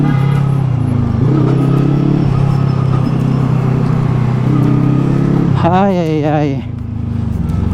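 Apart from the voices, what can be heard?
motorcycle riding on the road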